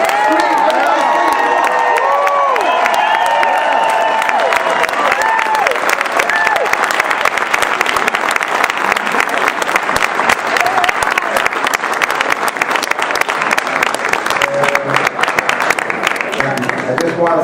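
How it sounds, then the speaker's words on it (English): An audience at Hostos College bursts into cheering that swells into sustained, loud clapping, with whoops and shouting voices over the top early on before the applause settles into a steady roar. "let's just give them one big cheer"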